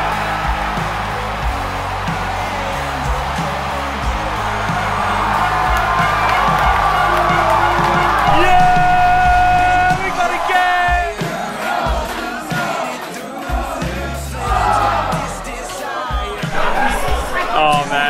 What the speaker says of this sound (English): The crowd has really amped up now.